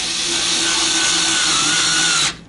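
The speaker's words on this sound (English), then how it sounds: "this is a 2-watt drill, and I use this sometimes." A small 2-watt power drill runs with a loud, steady high-pitched whine for about two seconds, then cuts off abruptly.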